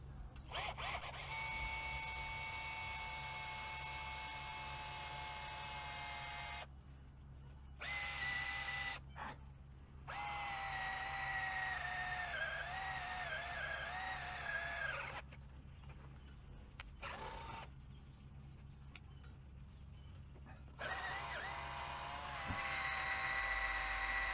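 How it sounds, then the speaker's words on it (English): A power drill whines in long high-pitched runs drilling a 23/64-inch hole in existing holes on a Can-Am Spyder F3T, stopping and starting several times with brief silent gaps, close and steady. "you need to drill a 23/64-inch hole in the existing holes"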